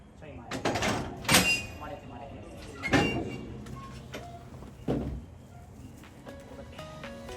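Several doors on the Sunrise Seto sleeper train in Japan slide and thud open in turn, sharp mechanical clunks spaced a second or two apart, over a hum of machinery with a voice talking.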